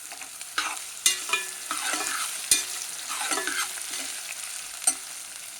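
Onions sizzling in a pan with a pinch of asafoetida for dal khichdi, steady frying hiss broken by several sharp spoon scrapes and stirs against the pan.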